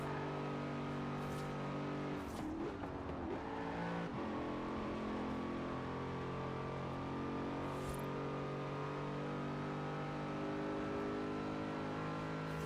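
A transaxle supercar in the racing game Forza Horizon 4 revs hard, its engine tone rising and falling with a brief rough burst early on. A strong, continuous engine drone then holds steady at close range.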